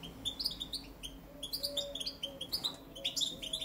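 Balkan goldfinch (Carduelis carduelis balcanica) singing a song with a flaw in it: quick bright twittering phrases and chirps, close and clear, continuous throughout with no voices.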